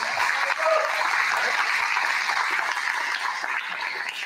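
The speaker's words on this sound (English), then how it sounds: "So let's give him a round of applause." A steady round of applause from an audience at an education conference geography challenge event, sustained and fairly close throughout, with no speech over it.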